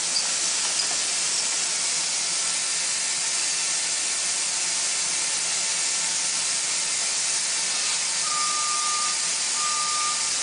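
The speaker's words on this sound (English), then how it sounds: "you can allow this to stop steaming off" Heat-insulating coating sprayed onto a hot pipe steams off in a constant, loud broadband hiss that holds unbroken throughout, with faint short beeps near the end and no talking.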